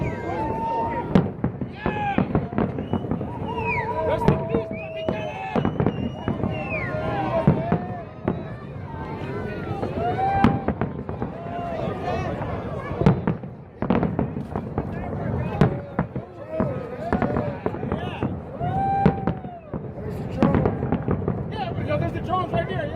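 Fireworks at the Tropicana implosion crackle and thump steadily in dense bursts, mid-distance, under an excited crowd and people talking throughout.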